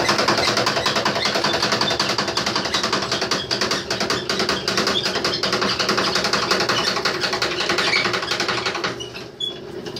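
A honey extractor spins with a dense, continuous mechanical whir and rapid clattering rattle, close and loud, easing slightly near the end as it slows.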